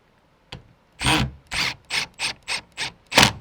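A screw is driven in while a door latch is fitted on a Harvey Allen Game Getter: a sharp knock, then seven evenly spaced, close, grinding ratchet-like strokes.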